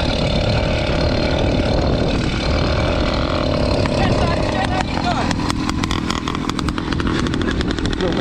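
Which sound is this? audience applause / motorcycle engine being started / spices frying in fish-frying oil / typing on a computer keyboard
motorcycle engine being started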